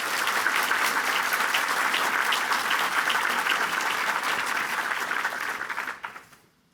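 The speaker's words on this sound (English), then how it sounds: "Let's give them another round of applause." Loud, steady audience applause at a State of the Girl 2024 event, many hands clapping continuously before tapering off and fading out near the end.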